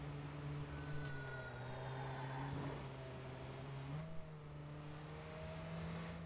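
A slow car in Watch Dogs drives steadily with a sustained engine drone, the pitch shifting slightly as it cruises, continuous and moderately loud without talk.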